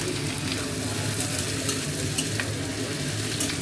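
Capsicum and green chillies fry steadily in a pan for chilli fish, giving a continuous close sizzle with occasional brief crackles, no voices.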